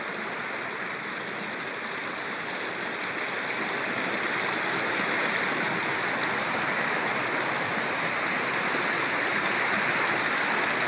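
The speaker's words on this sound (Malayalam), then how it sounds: "ഇതിൻ്റെ നടുക്കൂടെയാണ് ഈ വെള്ളം ഒഴുകുന്നത്." Clear stream water flows through a sacred grove in dense forest, a steady, full rushing wash that continues unbroken and fairly close, with no voices.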